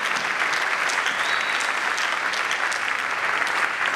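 A church congregation breaks into steady, dense applause at a Saturday evangelistic service, the clapping loud and continuous throughout with no voices rising above it.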